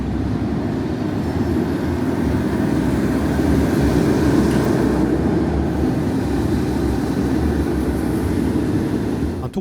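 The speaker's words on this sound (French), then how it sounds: "on peut admirer les trains tourner à vide" An empty roller coaster train on a test lap at Phantasialand rumbles steadily for the whole stretch, a loud, continuous low roar of wheels on track that swells slightly midway, with no voices.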